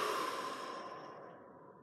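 Deep, slow breathing during a yoga-style workout stretch, one long airy exhale fading out gradually over about two seconds, close and fairly quiet with no talking.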